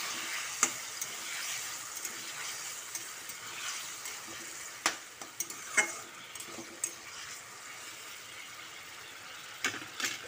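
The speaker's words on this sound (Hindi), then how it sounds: "अभी मैं पनीर डाल रही हूँ।" Paneer cubes frying in a pan with softened tomato, a steady low sizzle punctuated by irregular sharp clinks and scrapes of a spoon stirring, close by and with no talking.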